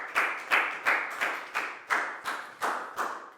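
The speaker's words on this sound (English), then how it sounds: "a big round of applause for Pak Bung" A single person's rhythmic claps in a Year 4 maths classroom, about nine sharp, evenly spaced claps with ringing decay, close and clear with no talk.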